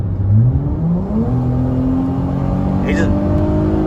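A 2018 Dodge Charger V6 engine revs up in sport plus mode, its pitch climbing through gear changes, loud and close from inside the vehicle, with a brief voice near the end.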